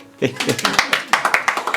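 Rhythmic audience applause at a Focus Group singing talent performance: steady, fairly close claps in a quick even beat, with voices mixed in.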